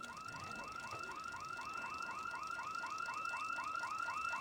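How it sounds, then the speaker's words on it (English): House alarm blaring in the zombie survival game Project Zomboid, a repeating rising electronic whoop cycling several times a second, steady and moderately loud throughout with no talking. "Okay, we've got a house alarm going off there, so we want to get away from that."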